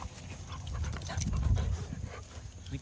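Two dogs tug and scuffle over a shoe, panting hard and whimpering with growly strain, close by and continuous.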